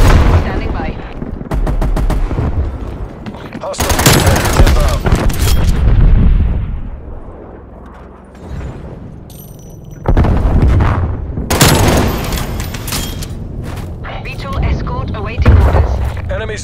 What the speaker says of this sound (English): Strafe run, standing by.